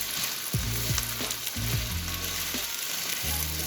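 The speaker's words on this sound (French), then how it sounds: "On mélange." A sizzling paprika mixture stirred in a pan, with bright frying hiss under a series of low scraping strokes and knocks from the spoon, close up.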